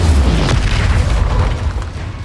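A fire spell cast in Hogwarts Legacy lets off a loud, deep whooshing burst that rumbles on and fades slowly over a couple of seconds, with no voices.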